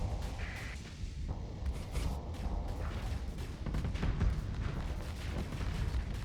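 Spaceship weapons firing in the video game Starsector, a dense, continuous barrage of booming shots and blasts layered over one another at steady loudness, with no voices.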